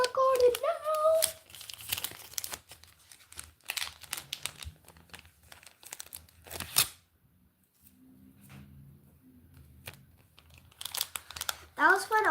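Foil Pokémon Destined Rivals card pack wrappers crinkle and tear in bursts, with brief rustles and handling noises, then a quieter stretch before more crinkling near the end.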